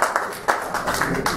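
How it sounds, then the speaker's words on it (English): Applause from a classroom audience after a session discussion: a brief burst of hand claps with several distinct, fairly close strikes in an uneven rhythm, with no talking heard. "Give a big round of applause to everyone."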